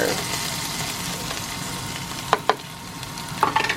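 Tomato paste, spices and flour sizzle steadily in a saucepan, a constant bright crackle with a few sharp clinks and scrapes of stirring near the end.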